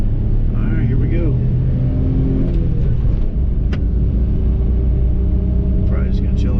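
A 1991 Honda Acty's small engine pulls steadily uphill in third gear, a continuous low rumble and drone inside the cab with a passenger's voice briefly over it.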